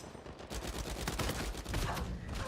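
Rapid video-game gunfire from a weapon resembling an AK, a dense run of loud automatic shots rattling continuously for the whole stretch with no pauses or talk.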